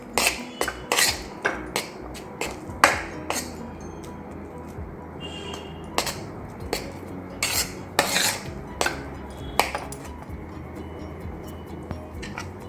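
Instant mawa mixture being stirred in a metal pot with a spoon, repeated sharp scrapes and clinks against the sides in an uneven rhythm, close up, without speech.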